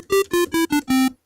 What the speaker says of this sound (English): some of us call it a square wave, and others will call it a pulse wave